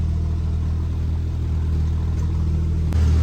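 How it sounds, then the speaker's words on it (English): A 1993-98 Jeep Grand Cherokee engine idles close by with a loud, steady low rumble and faint clatter, then shifts to a deeper tone near the end after a brief click. "We got ourselves a running Jeep."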